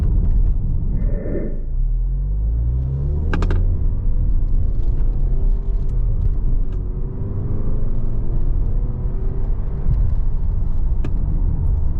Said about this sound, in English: And now we're going to shift with the gear shift like it's a 6-speed.